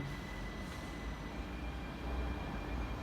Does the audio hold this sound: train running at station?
yes